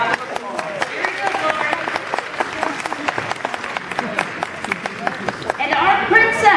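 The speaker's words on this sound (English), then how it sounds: "Give Miss Lori a round of applause" Audience applause for Miss Lori, a contestant in the Wee Miss Harvest 2012 children's pageant, crackling steadily across the room with faint voices and a few cheers breaking through near the end.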